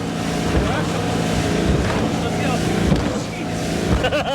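A 1973 Cobalt motorboat with a Mercruiser 165 hp engine roars steadily while it runs rough water on the Mississippi River. Wind buffets the microphone and waves slap against the hull, and voices can be heard faintly beneath.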